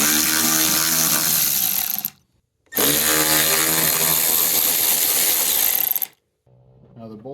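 A power driver with a T30 Torx bit removes the headlight bolts on a Ford, giving two loud whirring bursts with a short pause between them, close up.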